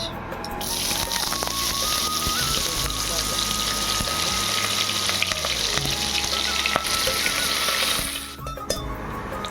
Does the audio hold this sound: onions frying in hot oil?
yes